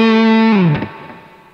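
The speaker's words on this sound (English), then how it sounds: "there is a lot of distortion that was added to that" Electric guitar run through an overdrive pedal, a single sustained distorted chord ringing loud and harmonically rich, then bending down and cutting off into a decaying buzzy tail, with no voices.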